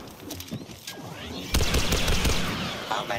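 Blaster gunfire from a Star Wars Battlefront II multiplayer match, with a dense burst of rapid shots opening up at about one and a half seconds and continuing loudly to the end, layered with other game effects.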